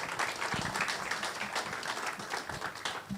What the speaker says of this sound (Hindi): ज़ोरदार तालियों से वेलकम करेंगे।